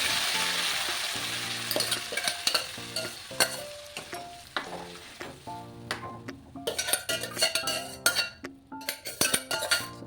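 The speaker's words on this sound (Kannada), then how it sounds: "ಈಗ ಎಣ್ಣೆನೂ ಕಾಯ್ದಿದೆ ಇದಕ್ಕೆ ನಾವು ತೊಗೊಂಡಿರೋಂಥ ಸಾಸಿವೆ ಹಾಕೊಂಡ್ಬಿಡೋಣ" Mustard seeds, curry leaves and a ground paste spit and crackle in hot oil for a village-style tomato chutney, with steady close sizzling, scattered pops and frequent clinks of a spoon stirring against the pan.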